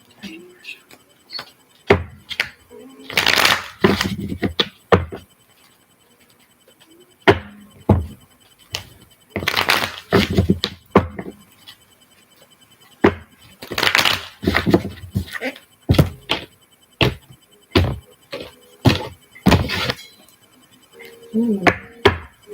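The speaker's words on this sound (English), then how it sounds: "3 more shuffles" Tarot cards being shuffled in repeated bursts of papery riffling and tapping, close and fairly loud, with short pauses between rounds and no talking.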